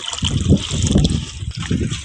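Water poured from a half-full can into a tiffin box outdoors in a village, a short close splashing trickle running steadily for a couple of seconds.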